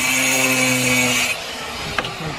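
A power tool tightens a bracket for a solar panel on a tiled roof during a 10kW hybrid solar installation, giving a steady loud whirring drone that cuts off partway, followed by a sharp clack.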